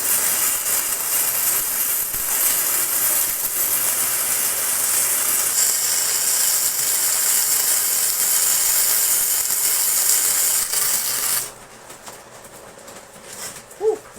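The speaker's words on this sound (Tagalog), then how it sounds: "flux cord arc welding, IFCAW. So ito yung ISMAW, shielded metal arc welding" Flux-cored and shielded metal arc welding on a 2-in-1 welding machine, heard as a loud, steady crackling hiss that runs unbroken for about eleven seconds, then cuts off to near quiet with a faint knock.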